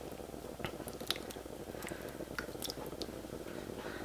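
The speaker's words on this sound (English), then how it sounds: "go ahead and give it a stir." Ground beef and Pace picante salsa being stirred in a hot pot, giving soft wet squishing and occasional sticky clicks in a steady, close, fairly quiet run with no talking.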